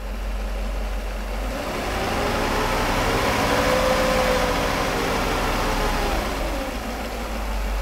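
A Mercedes 500SL engine idles steadily and close by, a continuous low rumble with a slight swell in the middle, with no talk over it.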